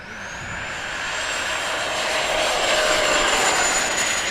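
A twin 70mm ducted-fan E-flite SU-30 radio-control jet takes off, its high whine holding steady and swelling louder as the model accelerates, with no talking.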